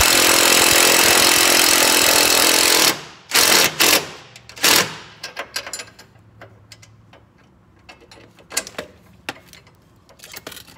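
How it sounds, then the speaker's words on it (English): Bolts on an FR-S/BRZ/GT86 sway bar end link are tightened: a loud, continuous tool whir for about three seconds, then a run of sharp metallic clicks and knocks of varying strength. "bolt this up so it's nice and tight"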